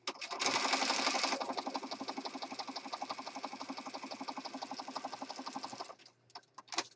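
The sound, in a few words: sewing machine zigzag stitching around a journal card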